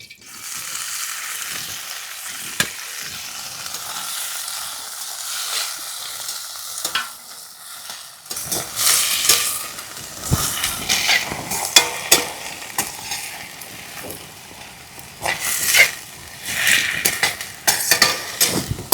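Gongura leaves frying in a little oil in a pan, a continuous close sizzle that grows busier and louder midway, with frequent stirring scrapes and clacks of a utensil against the pan.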